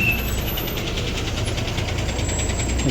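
Bus engine idling and reversing at the Vijayapura central bus stand early in the morning; a steady close diesel throb with a rhythmic knocking pulse and a faint high beeping tone, continuous and without talk.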